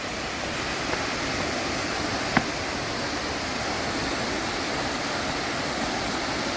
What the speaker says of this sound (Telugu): చాలా చిన్న హైట్ ఉండే పడుతుంది ఫాల్స్.